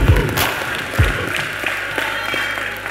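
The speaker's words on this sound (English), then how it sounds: "So give him a round of applause, please." An audience applauds steadily at a sports team awards ceremony, a dense wash of clapping at moderate loudness with a couple of low thumps near the start.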